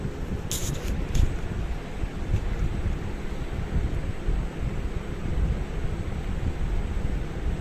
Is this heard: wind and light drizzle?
yes